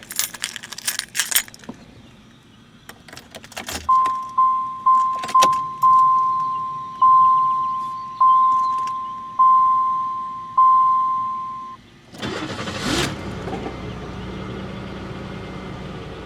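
A series of evenly spaced warning chimes sounds, followed by a 1995 Chevrolet Monte Carlo LS engine cranking and catching into a steady idle up close.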